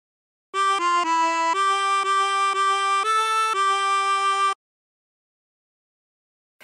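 A phrase from The Yellow Rose of Texas on a 24-hole tremolo harmonica: a run of about eight sustained, shimmering notes stepping up and down over four seconds, played solo and close with no talking.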